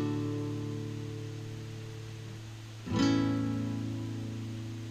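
Sustained synthesized tone at the 440 Hz standard tuning pitch, holding steady and alone, then shifting with a brief swell near the end.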